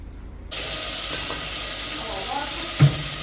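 After a half-second of near quiet, a lidded pot of Jamaican-style rice and peas on the stove gives off a steady steamy hiss close by, with one brief knock near the end.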